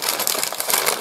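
Small metal craft pieces such as frames and tiny scissors clatter and jingle continuously as they are sorted at a desk, a close, bright rattling with no talk.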